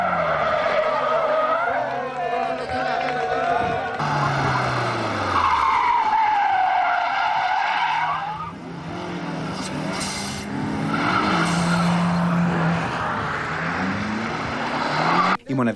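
Race car skidding hard on a track at Megara, a converted wedding-gift car, with long tire squeals and engine revs rising and falling loudly throughout, constant and close, with some voices mixed in.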